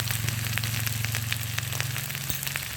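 Turmeric, salt and chili powder frying in a pan for a Bengali egg curry, a steady close sizzle with faint stirring scrapes and a low constant hum underneath.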